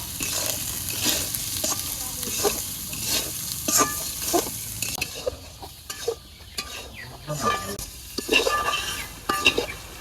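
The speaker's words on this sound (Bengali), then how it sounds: "হলুদের গুঁড়ো দিয়ে দিলাম লবণ দিয়ে দিলাম এবার ডাল সুন্দর করে টালিয়ে নিই" Lentils (dal) with turmeric and salt frying in a pan, stirred with repeated scraping strokes over a steady sizzle, with occasional light clinks of utensil on metal; close and continuous.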